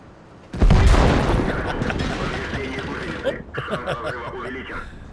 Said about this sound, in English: Was that our artillery or theirs?